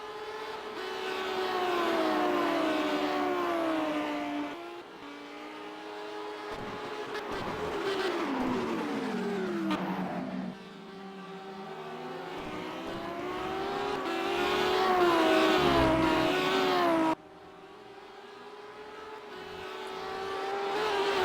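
Race cars in the video game Simraceway run a track through a set of S-bends, with loud high-revving engines rising and falling as gears shift, several cars close together.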